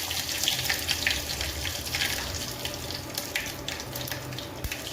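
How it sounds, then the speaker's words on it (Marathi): Mustard seeds splutter and crackle in hot oil for a Maharashtrian toor dal tempering, a dense, steady sizzle with scattered pops throughout, no talking. "एक चमच मोहरी ॲड करायची मोहरी चांगली फुटूपर्यंत वाट बघायची"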